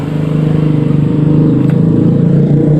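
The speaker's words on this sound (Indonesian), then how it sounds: "Sebentar, ada motor lewat." A passing motorcycle's engine drones loudly and steadily nearby, its rumbling tone holding close throughout with no other sounds.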